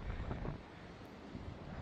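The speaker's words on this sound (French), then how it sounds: "Il y a encore de sacrées rafales qui arrivent de la montagne." Strong wind gusts blow down from the mountain the day after a storm, making a rough, loud rumble of wind buffeting the microphone that eases briefly before surging again.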